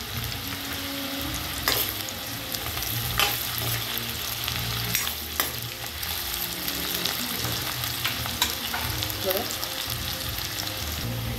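Onion frying in a pan, a continuous hissing sizzle close up with intermittent utensil scrapes and knocks against the pan over about eleven seconds, no speech.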